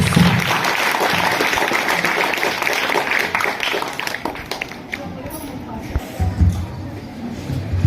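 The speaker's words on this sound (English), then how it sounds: "Please welcome them with a big round of applause" Audience applause at a school reopening ceremony welcoming students about to perform an education drama, steady dense clapping with crowd murmur and shuffling, thinning toward the end.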